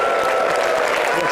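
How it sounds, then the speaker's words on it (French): Loud, dense applause from a crowd fills a short stretch of a French-language television show, with faint voices mixed beneath the steady clapping. "il faut se lever pour applaudir pour Michel."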